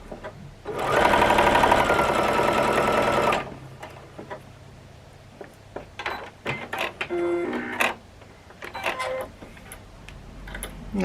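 A sewing machine stitches a quarter-inch seam on a quilting block, a loud, fast, even mechanical whir for about three seconds, followed by quieter fabric handling, rustling and small taps.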